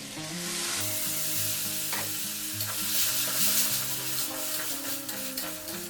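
Tomato paste with Kashmiri chili, cumin and other spice powders sautéing in hot oil, a steady close sizzle with repeated scraping stirs of a spoon across the pan throughout.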